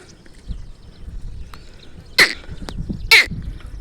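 Two loud, sharp peacock calls ring out about a second apart in an open outdoor setting, over faint background rustling and scattered low noises.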